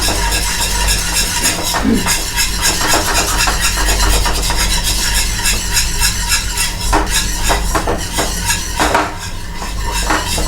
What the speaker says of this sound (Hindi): इसे हमें कंटिन्यूसली चलाते रहना है ताकि इसमें जो है हमारे लम्स नहीं पड़े